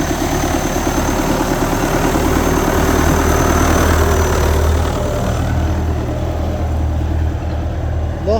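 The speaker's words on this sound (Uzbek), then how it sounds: "traktorchimiz traktorda yurgizlar" A tractor engine running at a steady idle, a loud, low rumble with a regular mechanical throb that stays close and continuous.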